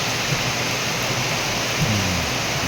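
Heavy rain pouring steadily, a dense, loud, unbroken hiss with no pauses throughout.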